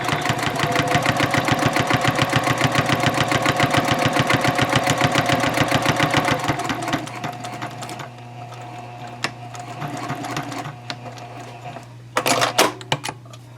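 A sewing machine runs a 3.0-length top stitch through a fabric zipper pouch, with steady rapid needle pulses going forward, then a brief reverse and forward again, before easing off into quieter handling noises near the end.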